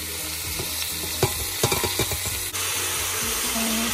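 Garlic sizzling in a hot pan alongside frying meat, a loud steady crackle broken by several sharp utensil scrapes and clacks near the middle, no talking.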